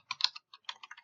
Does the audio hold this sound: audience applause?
no